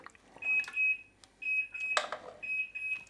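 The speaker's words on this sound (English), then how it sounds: "And there goes the alarm." A kitchen oven timer alarm beeps in steady repeated electronic tones while a cheese and bacon potato gratin dish is handled, with clattering and knocks mixed in.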